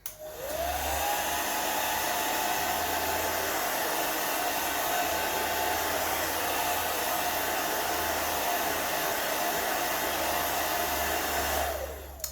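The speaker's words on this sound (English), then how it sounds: "let me just dry this page again with my hairdryer" A handheld hair dryer blows steadily for about twelve seconds to dry an acrylic-painted art journal page, a loud, constant whooshing hum that starts and stops abruptly.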